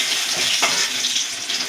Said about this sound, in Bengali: বেগুনটা ভাজা হয়ে গেছে, খুব বেশি ভাজবো না, হালকা করে ভাজবো, ভেজে তুলে নিলাম।